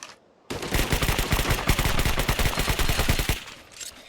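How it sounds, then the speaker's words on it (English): Rapid automatic gunfire from a modded weapon in the survival game ARK, a sustained loud burst of closely spaced shots lasting about three seconds, then stopping abruptly. "once you fire quite a few rounds, it starts to get a little uncontrollable"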